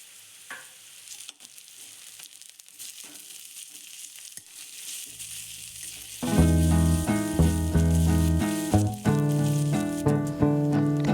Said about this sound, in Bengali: তার মধ্যে যে ঘষে রাখা আদা এবং রসুনটা ছিল সেটা অ্যাড করে দিয়ে তারপরে পুরো মশলাটা ভালো করে ভাজা ভাজা করে কষিয়ে নেওয়া হচ্ছে